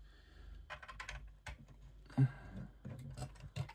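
Plastic parts from a Fanhome Transformers Optimus Prime model kit clicking into place, a series of small, close, irregular taps and snaps with one sharper click in the middle.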